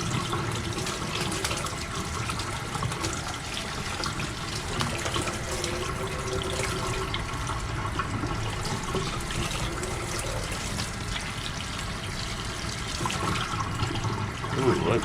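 Hot water pouring steadily from a tap onto a tie-dye shirt during rinsing, a continuous close splashing rush with slight shifts as the fabric moves under the stream.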